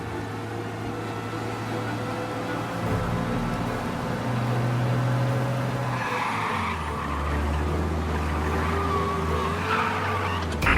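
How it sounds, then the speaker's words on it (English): Car racing fast and skidding in the video game Mafia: Definitive Edition, a steady loud engine drone with tire skid noise rising midway and continuing to the end, no talking. "We lose them by driving real fast and getting clear of them."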